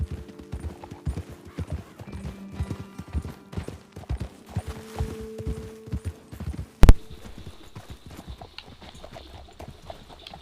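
Horse hooves clip-clopping at a steady riding pace in the video game Red Dead Redemption 2, a close rhythmic patter of hoofbeats under a low tonal hum, followed by a single sharp thump and then quieter ambience.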